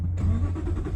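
A 2014 Aston Martin V8 Vantage 4.7 N430 coupé with SportShift II starts up, its V8 catching into a loud, deep, close-up burble that fills the short moment.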